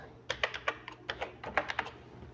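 Someone types on a computer keyboard while entering text on a PowerPoint slide: a quick, uneven run of about a dozen crisp, close keystrokes in two short bursts over a quiet room.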